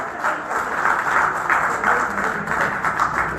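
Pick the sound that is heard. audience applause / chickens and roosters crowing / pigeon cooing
audience applause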